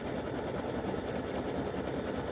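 A sewing machine running a steady satin stitch on fabric, its continuous dense motor whir and rapid needle chatter holding at an even, close level throughout without pause.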